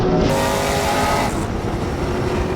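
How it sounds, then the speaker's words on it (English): TA2 series race cars, including a Chevrolet Camaro, roar loudly on the circuit at World Wide Technology Raceway, a continuous close engine drone that shifts in pitch midway as the cars pass. "On board with Boris Said Jr., HendrickCars.com silver hair Chevrolet Camaro."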